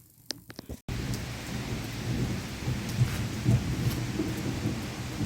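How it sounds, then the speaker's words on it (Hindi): Steady monsoon-style rain hisses and patters onto a courtyard throughout, with low thunder rumbling beneath it; a few sharp knocks sound at the start before the downpour settles in. "बारिश शुरू हो गई"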